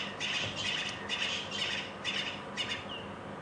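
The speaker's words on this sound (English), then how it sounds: "Natal Franklins making the noise there." Natal francolins calling during a safari drive in South African bushveld, a series of harsh, rhythmic squawking bursts repeated about every half second, moderately loud, with no talk.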